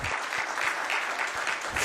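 A church congregation applauds in a dense, loud, continuous patter of many hands clapping at once, close and steady throughout.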